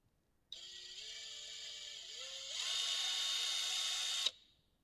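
A small power drill fitted with a 1.5 mm bit bores a pilot hole in a HASLAB Ghost Trap part, one steady whine lasting about four seconds, its pitch stepping up partway through, close and alone.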